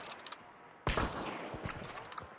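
A sharp gunshot cracks out in the Hunt: Showdown video game, a loud sudden blast followed by a short echoing tail and scattered smaller pops, with quieter game ambience before it.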